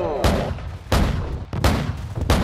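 Gunfire and explosions in the Modern Warfare video game, four heavy booming blasts at irregular intervals with rumbling tails between, loud and close.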